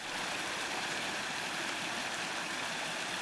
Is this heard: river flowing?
yes